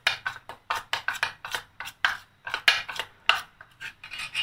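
A spoon scrapes and taps rhythmically against a bowl while kuttu flour batter with milk and sugar is stirred, a quick, close series of gritty strokes with no talking.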